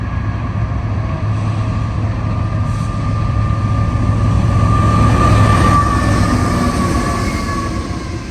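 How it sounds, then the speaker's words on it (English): A BNSF transfer intermodal freight train led by two GE Evolution-series locomotives rolls past on a mainline, a loud continuous rumble of wheels and cars with a faint high squeal, swelling slightly mid-pass and staying steady, close by. "This time it was a BNSF transfer intermodal with 2 GEVOs."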